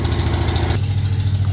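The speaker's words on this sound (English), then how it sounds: "that's the wheel horse tractor that's running to charge the battery" A Wheel Horse garden tractor engine runs steadily at idle while charging a battery, a close, continuous low throbbing hum with no talk over it.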